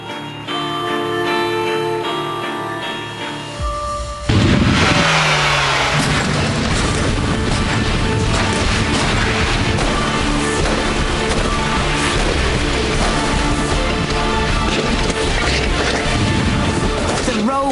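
Hollywood stunt car roaring as it accelerates hard, then a sustained violent crash as it rolls over, loud continuous engine and impact noise after a quieter opening with music-like tones.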